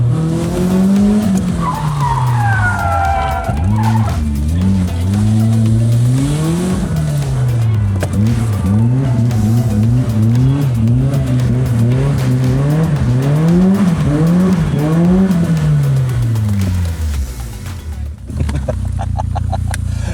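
BMW drifting with the handbrake locked on brand-new asphalt, a loud continuous tire squeal sweeping up and down over a wavering engine note for nearly twenty seconds, cutting off near the end.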